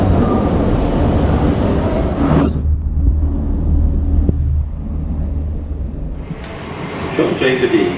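A loud train bound for Howth in Dublin rumbles past nearby, its roar dropping to a quieter hum midway before rising again, with speech faintly underneath.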